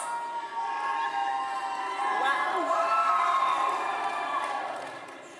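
Rowdy commencement crowd at a School of Science and Technology graduation, sustained cheering, whooping and shouting that swells steadily for several seconds, then begins to fade near the end.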